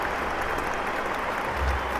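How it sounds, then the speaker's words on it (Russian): A stadium crowd applauds Atalanta, the Coppa Italia Frecciarossa finalists, with dense, steady clapping that stays loud and even throughout. "Аплодисменты Аталанте"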